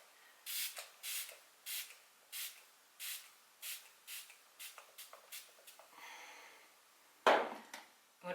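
A makeup setting spray gives a series of short, close hissing bursts in a steady rhythm, about a dozen quick sprays that grow shorter and softer, followed by one louder rustling knock near the end.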